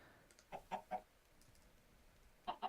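Chicken clucking in a video game: a quick burst of three short clucks, a pause, then two more, fairly close and clear over a quiet background.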